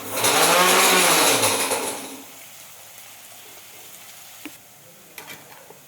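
A mixer grinder whirs loudly for about two seconds grinding chutney, then winds down and stops, leaving a quiet room with a few faint clicks and knocks.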